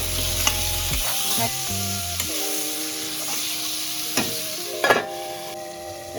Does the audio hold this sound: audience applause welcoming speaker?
no